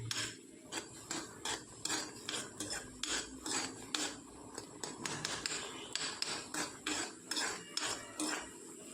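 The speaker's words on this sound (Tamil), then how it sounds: "போட்டு நல்லா கலக்கி விடுங்க" Rhythmic scraping of a utensil against a pot while stirring leftover chapati halwa, repeating in quick regular strokes, close and clear with no voices.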